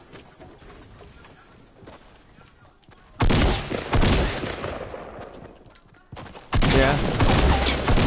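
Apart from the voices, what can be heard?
gunfire in a video game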